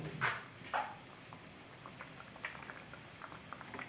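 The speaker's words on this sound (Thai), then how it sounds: "ตั้งกระทะให้เดือดสุดๆ นะคะ ใช้ไฟแรงนะคะ" Water bubbles and simmers at a rapid boil in a pan over high heat, with a couple of louder pops at the start and a soft continuous fizz throughout.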